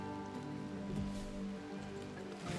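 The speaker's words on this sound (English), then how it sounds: "It's raining." Steady rainfall in the colony-building video game RimWorld makes an even, continuous patter of drops with a soft low hum beneath it and no voices.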